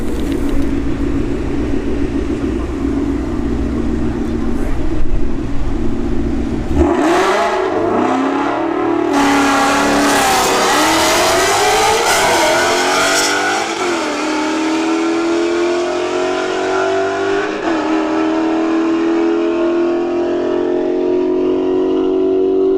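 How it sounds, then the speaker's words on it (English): A Genesis G70 and an S550 Mustang launch side by side at a drag strip, engines droning steadily before a sudden loud burst of revving that climbs through hard gear-shift sweeps and then fades as the cars pull away. "Genesis G70 in the left lane, S550-50 in the right lane"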